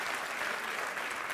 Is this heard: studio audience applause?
yes